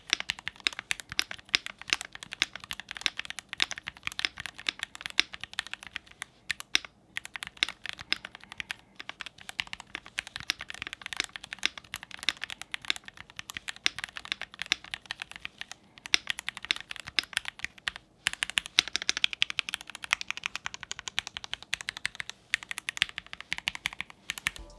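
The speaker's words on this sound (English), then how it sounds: "As for me, this is the most clear and interesting sound of this keyboard" Typing on a mechanical keyboard with only switches and sandwich foam, no case foam, producing crisp close-up keystrokes in rapid irregular bursts with brief pauses between.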